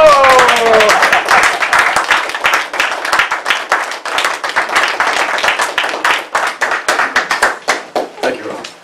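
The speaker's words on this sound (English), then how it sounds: "Let's give a free hand applause in welcoming him." Audience applause at a Toastmasters meeting welcoming a speaker, a burst of many hands clapping that thins into scattered, individually distinct claps toward the end.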